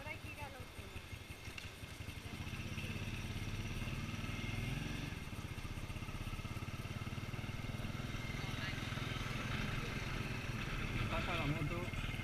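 A motorcycle engine drones nearby and sweeps past at a border crossing, its buzzing rumble steady under chatter and background voices.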